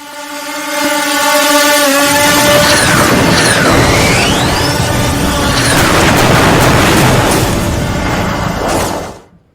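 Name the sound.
explosions from a drone attack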